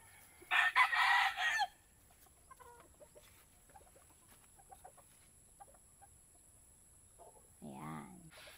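A rooster crows loudly and close by in a single long call, followed by quiet and then a brief clucking call from one of the black native hens in a backyard flock.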